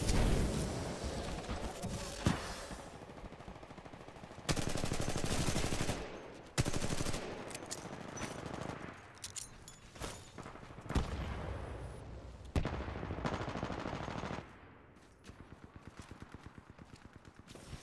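Gunfire in the Titanfall 2 multiplayer shooter game, loud bursts of rapid automatic fire with sharp single shots, continuing in dense clusters with brief gaps and ending in a quieter rattling stretch.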